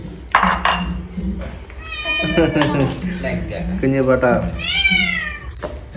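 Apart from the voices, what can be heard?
cat meowing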